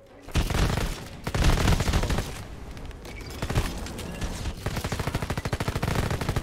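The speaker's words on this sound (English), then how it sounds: "Dude, that was a really fast rate of fire." Rapid gunfire in the video game Red Solstice 2, a loud, continuous stream of fast shots with short bursts and near-constant rattling fire throughout, with no talk.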